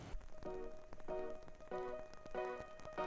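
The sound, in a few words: rain falling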